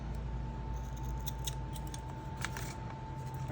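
Scissors trim a paper craft piece, giving soft, quiet snips close by over a faint steady hum, with no voices.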